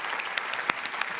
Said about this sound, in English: Did you hear the clapping we were getting?